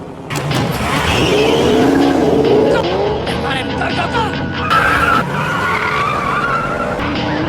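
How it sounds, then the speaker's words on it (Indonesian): Car tires skid and squeal during a sharp getaway maneuver through heavy traffic while fleeing a police car, a loud sustained screech over engine noise, with voices talking over it. "Kain segera menginjak pedal gas dan dengan manuver tajam berhasil membuat mobil polisi itu kehilangan jejak di tengah padatnya lalu lintas."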